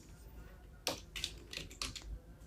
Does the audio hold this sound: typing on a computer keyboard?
yes